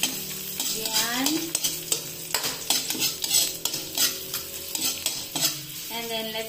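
Ginger sautéing in hot oil in a pan for a Filipino chicken curry, sizzling steadily while a utensil stirs and scrapes it in quick repeated strokes; one brief word is spoken over the sizzle.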